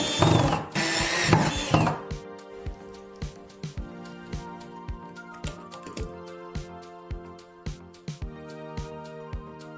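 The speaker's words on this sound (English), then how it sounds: "Take a plastic paint bucket and screw it to the wall." A plastic paint bucket being screwed to a wall, a short burst of power drill whirring followed by a series of sharp ratcheting clicks at a steady pace.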